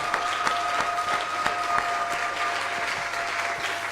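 A church congregation claps together during an Easter service, a dense steady applause that stays even and fairly loud throughout, with a faint sustained tone beneath and no clear speech.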